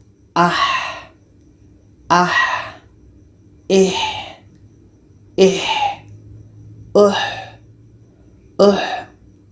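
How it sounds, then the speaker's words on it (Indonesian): A voice repeatedly produces the tajwid 'ha' letter, pushing breath out from the middle of the throat in six evenly spaced breathy bursts, each short and close, separated by quiet pauses. "Jadi kita alirkan nafas kita keluar."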